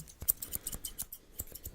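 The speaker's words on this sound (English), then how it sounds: "A barber cuts our hair by using scissors" Barber's scissors snip through hair in a quick, steady run of crisp, close, quiet clicks, with no talking.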